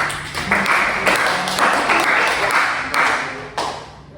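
A classroom group claps in short rhythmic bursts during an Indonesian history lesson, the hands loud and near, with a voice and a ringing tone now and then.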